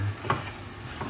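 Cooked lumpia shanghai filling stirred in a pan with a soft sizzle underneath, one sharp scrape near the start and a few quieter passes after, close and steady with no talk.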